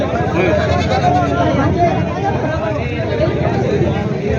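Goats bleat amid a loud, steady outdoor din at a large goat and sheep market in Maharashtra, with people's voices murmuring throughout.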